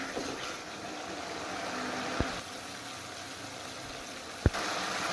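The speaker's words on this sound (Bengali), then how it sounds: "তাই একটু সময় নিয়ে মশলা ভালোভাবে কষিয়ে নিব" A spice paste fries steadily in oil for chicken bhuna, a faint, even hiss of low bubbling with two sharp clicks from the pan.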